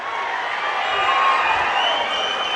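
A large audience at a government project event led by the chief minister sends up a loud, continuous roar of crowd noise, with clapping and cheering blended together throughout.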